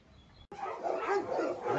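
Many dogs bark together at a large breeding kennel housing over two hundred stud dogs. The barking is a dense, continuous chorus that starts abruptly after a short quieter moment.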